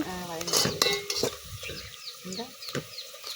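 Mint and curry leaves sizzle in a hot pan for a cowpea pulao, with a ladle clanking and scraping against the metal in several quick strokes close up.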